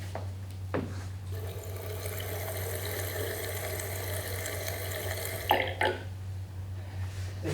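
Tap water runs steadily into a glass in a home kitchen for several seconds, a continuous close splashing stream with a low electrical hum beneath, ending with a brief clink near the end.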